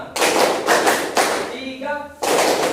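Students in a classroom clap their hands in a counted rhythm, a few crisp bursts of group applause close by with a short pause in between.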